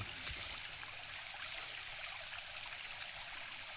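A mountain stream fed by a spring flows steadily along a hiking trail, a continuous close rush and babble of water with no voices.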